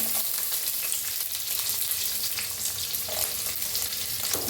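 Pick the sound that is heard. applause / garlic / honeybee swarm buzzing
garlic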